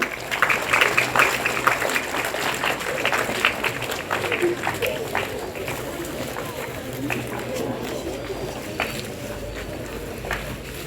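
A group in an Indonesian language class claps, a loose, scattered patter of hands that is strongest at first and tapers slightly over about eleven seconds, with voices murmuring underneath.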